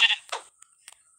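Sheep bleats from the video game Minecraft: a loud opening bleat followed by a second shorter call, then a few faint clicks and game sounds trailing off, with no talk.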